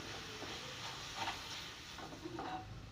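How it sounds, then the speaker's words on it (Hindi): Minced meat keema sizzling as it fries in a pan with capsicum, a constant close hiss with occasional soft stirring scrapes, no talking. "अब ये कीमा इसमें मैं डाल दूँगी और इसे भी बहुत अच्छी तरह भून लूँगी।"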